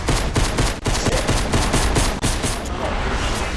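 Rapid gunfire in the Fortnite video game, a dense loud stream of shots in quick rhythmic bursts that runs nearly the whole time with only brief gaps.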